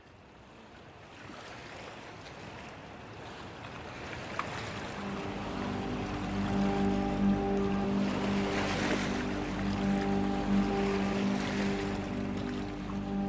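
Dark water slops and laps against hulls and moorings at night, a soft, continuous wash that swells louder midway, with a low hum running beneath.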